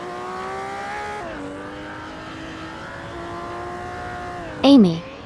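Race car engines in a racing video game hold a steady, sustained drone with shifting pitch, briefly dropping as a gear changes, then a sharp tire squeal and engine surge just before the end.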